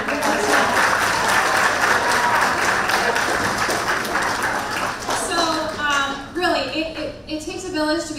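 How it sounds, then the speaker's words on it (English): Audience applause at a school spring concert, a dense sustained wash of clapping that fills the room for several seconds before thinning out, with voices and cheers rising near the end. "let's give them a round of applause"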